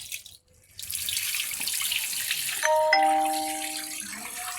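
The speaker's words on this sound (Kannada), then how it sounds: "ಈಗ ಇನ್ನೂ ಒಂದು ಸತಿ ತೊಳಿತೀನಿ" Finger millet (ragi) being washed in water, a continuous close rush of running tap water splashing into a vessel, with a brief ringing metallic tone near the end.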